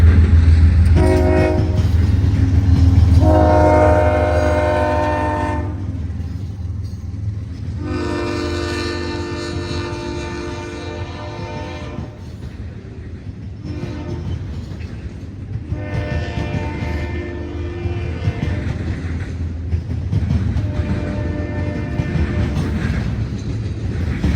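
A CSX intermodal freight train rolls past close by in Cordele, Georgia, with a loud horn blast near the start, a long rumble of cars and repeated horn sounds.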